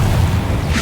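A Confringo explosive spell goes off in a video game: a loud, heavy boom with a deep low-end roar that fills the whole short moment.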